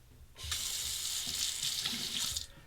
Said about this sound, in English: let's take the razor and temper it under the cold water